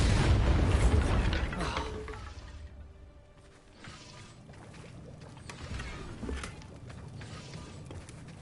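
A Bombarda spell blasts in a Hogwarts video game, opening with a loud, heavy burst that fades into rumbling debris and scattered clattering.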